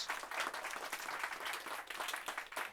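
A small audience gives a brief, warm round of applause for Craig, a lively burst of clapping with a pulsing, uneven rhythm that carries on without pause.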